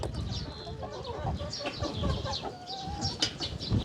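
Several hens cluck close by in a run of short, overlapping calls that rise and fall with bursts of louder squawks.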